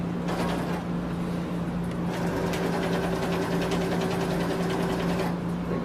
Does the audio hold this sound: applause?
no